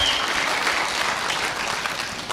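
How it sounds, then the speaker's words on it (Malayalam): An audience gives strong, dense applause, a steady wash of many hands clapping close and loud that tapers a little at the end. "ഒരു ശക്തമായ കൈയടി കൊടുക്ക്"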